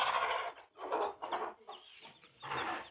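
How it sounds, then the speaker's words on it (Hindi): A hen clucks repeatedly on a farm where she is kept with chicks only a few days old, sounding as several close, loud bursts of clucking with short pauses between them and no talking. "मुर्गी को हम बाहर निकाल के दिखाएंगे आपको"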